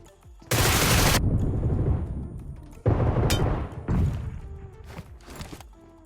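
Gunfire in PUBG Mobile, a long dense burst of automatic shots followed by two more loud bursts and scattered reports, close and punchy with trailing echo.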